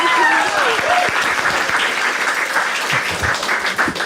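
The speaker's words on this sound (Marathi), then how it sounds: "एकदा टाळ्या वाजायची" Audience applause at a Marathi stand-up comedy show with crowd work, a dense burst of clapping that holds steady and then thins, with voices and laughter over it.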